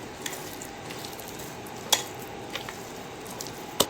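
Malpua batter with grated coconut being beaten by hand in a bowl, a soft wet stirring with a few sharp clinks of the utensil against the side.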